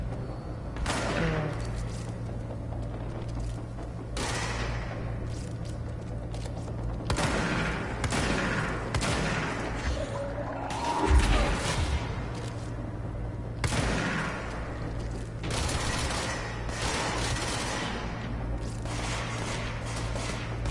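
Gunfire from a weapon in the video game Control: bursts of shots repeat every few seconds, fairly loud over a steady low background hum.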